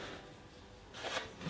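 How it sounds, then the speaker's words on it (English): A spatula stirs a wet mixture of rye flour, water and ripe rye sourdough leaven, giving soft continuous scraping and sticky squelching, close and quiet, with a slightly louder swish near the end. "I'm just going to stir it together with my spatula."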